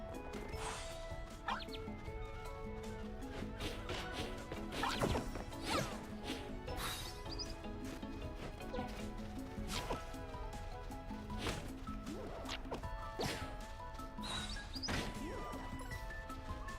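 Repeated smashing and thwacking impacts from birds striking the player character in the video game Dracamar, irregular hits scattered across a busy, continuous game soundscape, moderately quiet overall.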